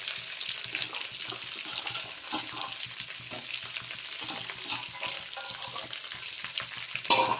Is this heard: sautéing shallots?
yes